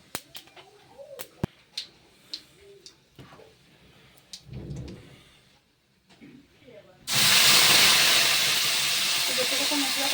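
Whole spices for a Bengali tempering hit hot oil in a kadai, bursting into a loud, steady broadband sizzle that runs on to the end after quieter kitchen clatter and scattered taps.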